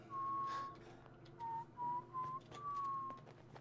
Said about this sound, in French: Arrête de siffler.